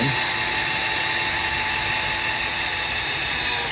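A power drill whines loudly and continuously, close up, as it drives lag screws through the flange of a solar roof vent, then cuts off abruptly at the end.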